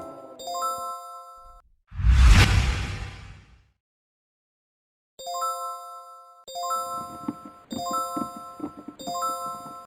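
An electronic ringtone plays in repeated bursts of bright chiming tones, interrupted early by a loud whooshing sweep, then resuming in several rhythmic phrases.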